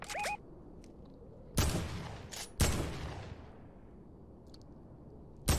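Gunfire in the Fortnite video game: loud broadband shots burst out at intervals, each decaying over about a second, with a short electronic chirp near the start and quieter game ambience between.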